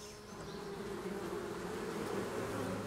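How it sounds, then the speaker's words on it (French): Honeybees buzzing at an opened beehive with frames packed full, a dense continuous hum of many insects close by, steady and swelling slightly, with no voices. "vous avez vraiment la ruche qui se réveille devant vous"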